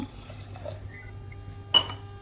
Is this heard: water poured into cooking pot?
yes